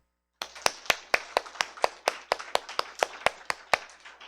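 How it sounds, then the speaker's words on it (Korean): A church congregation at a Sunday worship service clapping together, about fifteen sharp, evenly spaced claps in a steady rhythm after a moment of silence. "다 같이 박수"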